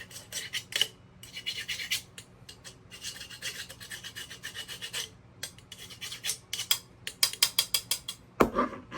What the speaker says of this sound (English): I got a little glue left over on here. Pretty much just have to scrape it off